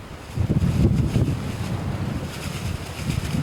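Strong wind blowing outdoors at a hunting spot in Leakey, Texas, gusting and rumbling heavily against the microphone in continuous low surges, with no voices.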